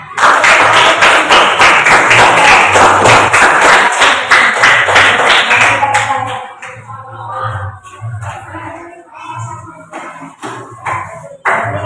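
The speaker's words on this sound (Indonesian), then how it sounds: "sekarang kita beri tepuk tangan" Classroom of pupils clapping hands together, a dense loud burst for about six seconds that thins into scattered claps, taps and murmuring voices.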